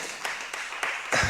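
Audience applause at a business forum prize ceremony for Radio Mayouri Campus: a brief burst of scattered clapping with a few separate sharp claps, building at the end.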